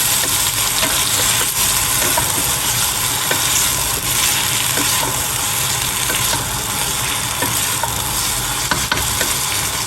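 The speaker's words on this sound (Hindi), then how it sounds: "अब इसी वक्त हम डालेंगे लहसुन।" Garlic fries in oil in a pot while chicken biryani is cooked, giving a loud continuous sizzle and crackle close up, with occasional stirring clicks and no talk.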